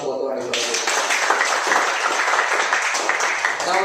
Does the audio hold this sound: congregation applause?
yes